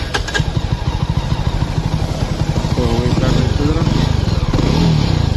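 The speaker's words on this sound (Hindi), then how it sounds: "बाइक अब पूरी मिसिंग मारने लगी है और स्टार्ट नहीं हो रही है, एक बार फिर से ट्राई करके देखते हैं।" A misfiring Jawa 42 motorcycle cranks on its self-starter, catches, and settles into a loud, close, pulsing engine beat with revs rising, while a voice speaks briefly.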